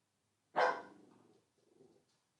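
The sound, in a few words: dog barking in the background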